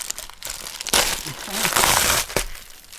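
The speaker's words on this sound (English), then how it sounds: "I've never actually opened it using this tab." Crinkly plastic rustles, then a loud tearing rip pulls open a plastic mailer bag by its tab, followed by more crinkling handling sounds close up.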